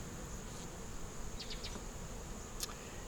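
Honey bees in a hive building up foundation among cells of capped honey, nectar and pollen, giving a faint, steady buzzing drone with a few brief louder passes and no talking.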